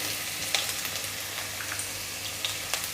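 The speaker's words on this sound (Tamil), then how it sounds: "இதை வதக்கிக்கலாம்" Mustard seeds, ginger, garlic and curry leaves sauté in hot oil, a steady close sizzle with scattered pops and crackles, no voices.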